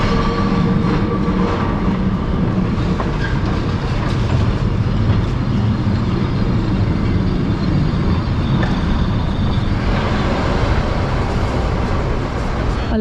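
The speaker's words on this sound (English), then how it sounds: "love those trams" A Lisbon tram passes along a busy city street near Rua Augusta and Praça do Comércio, its steady rumble and rail clatter continuing loud and close throughout, with a brief voice heard over it.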